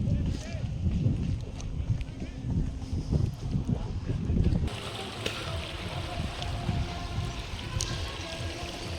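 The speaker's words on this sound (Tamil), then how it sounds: "அருவி ஓடிக்கிட்டு இருக்கு." A waterfall flows in the mountains near the Oman border, its steady rushing water mixed with gusts of wind buffeting the microphone and voices talking over it.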